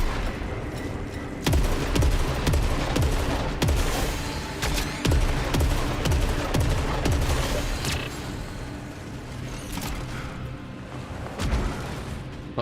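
Rapid bursts of gunfire from the sci-fi shooter game Saros, sharp repeated shots and fusillades loud and close over several seconds, easing into scattered blasts toward the end.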